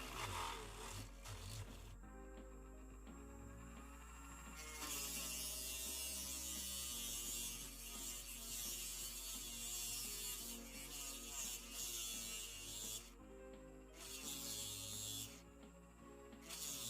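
A small electric drill bores into a Matchbox Peugeot 205 Turbo 16 die-cast model, giving a steady whirring buzz that keeps on throughout with small shifts in pitch and loudness.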